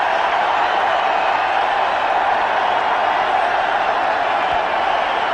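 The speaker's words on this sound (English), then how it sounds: "Crowds have come alive." A cricket stadium crowd roars steadily during Dhoni's batting, a dense, continuous wash of cheering and noise with no pauses, loud and distant at once.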